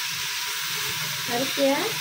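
Rice tipped into a hot pan sizzles with a steady, close hiss while it is stirred, with a few brief scraping swells toward the end.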